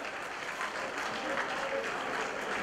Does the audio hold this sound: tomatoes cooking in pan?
no